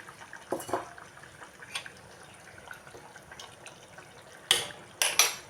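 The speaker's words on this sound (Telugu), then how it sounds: "కొంచెం వాటర్ అయితే పోసుకుంటున్నాను" Water is poured into a ridge gourd curry cooking in a pot, heard as short splashing gushes with light clinks of utensils against the vessel, close and fairly quiet, with no talking.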